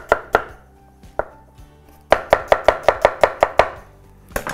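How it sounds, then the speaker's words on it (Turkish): A knife chops an onion on a cutting board for potato soup: a few separate knocks, then a quick, even run of about ten crisp close chops, and one more chop at the end, with no voices. "Onu da böyle doğruyorum."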